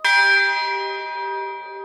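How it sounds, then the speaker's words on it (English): A single strike of a California mission bell rings out loud and clear, its bright metallic tone blooming and then sustaining with a slow, shimmering decay. "The next bell signaled time for another gut-wrenching meal."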